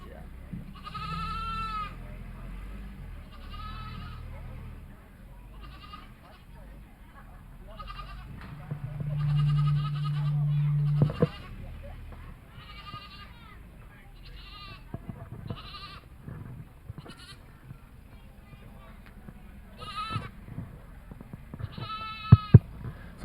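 Several goats bleat repeatedly in short, wavering calls at a goat show, some close and loud, amid a murmur of background voices and occasional thumps.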